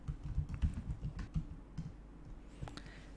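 Steady close typing on a computer keyboard while entering commands in RStudio, with quick irregular key clicks throughout and no talk.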